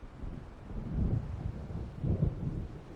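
An approaching storm in Alan Wake Remastered rolls in as low, rumbling wind gusts swelling twice, deep and muffled like distant thunder, with no voices.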